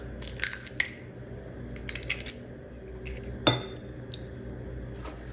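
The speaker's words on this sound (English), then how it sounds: "I like to add in the eggs into the measuring cup just in case a shell falls in." Eggs are cracked into a measuring cup in a kitchen. Sharp shell taps and glassy clinks come close by, and one louder knock rings out, over a quiet room hum.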